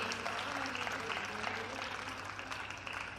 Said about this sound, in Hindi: तालियां इनकी बहुत अच्छी हैं।